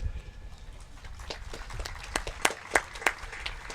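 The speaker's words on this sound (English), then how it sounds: "Please join me in a round of applause" Applause from an audience at a Teachers of the Year ceremony, scattered and fairly faint, with a few sharper claps standing out near the end.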